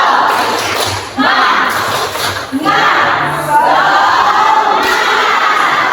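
A group of adults joins in a rhythmic spirit clap chant, 'tepuk semangat', with loud, close bursts of shouted voices and beats of clapping in a full, energetic crowd sound.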